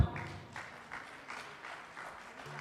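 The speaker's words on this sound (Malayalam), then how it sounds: "പ്ലീസ് നല്ലൊരു കൈയടി" A small audience at a wedding reception claps to welcome the couple onto the stage, a brief burst of rhythmic applause that starts strong and tapers slightly.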